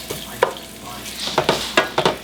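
Shallots cooking in butter with rosemary and thyme, a bright sizzle broken by several sharp stirring scrapes and spatters in quick succession, close and fairly loud.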